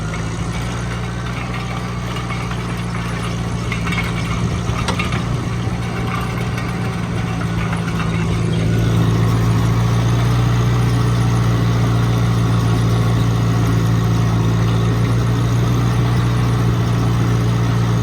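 A vehicle engine runs steadily during driveway grading on a farm as the wheels spin out, a loud continuous rumble that rises in pitch and strains harder about halfway through, with no voices.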